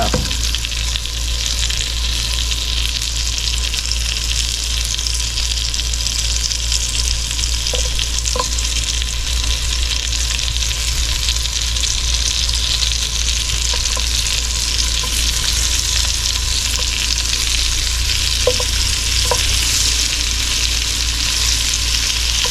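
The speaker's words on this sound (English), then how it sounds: "The onions are starting to cook." A big batch of onions fries in a deep pan for a French onion chicken bake, a steady loud sizzle with a few light scrapes and taps as they are stirred.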